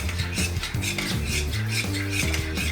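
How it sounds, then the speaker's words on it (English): Metal utensil stirring seasoning into food in a bowl, with repeated clinks and scrapes against the dish in an uneven stirring rhythm, close and moderately quiet. "we're gonna mix that up really, really well in here"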